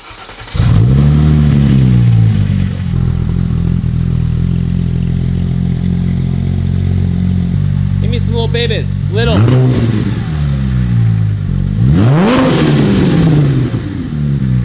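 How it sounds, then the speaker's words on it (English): A Porsche 997.2 GT3 with a Gentlemen's Spec performance package idles steadily after warm-up, then blips the throttle in several sharp revs that climb and fall back, loud and close, with someone talking briefly over it. "We're gonna start it up, let it get warm, and rev a little bit"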